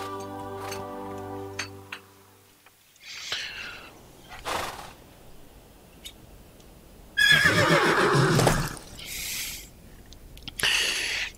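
A horse whinnies loudly in several bursts between gaps in the Lego Lord of the Rings video game, after a brief electronic tonal sound at the start, with a ticking texture underneath.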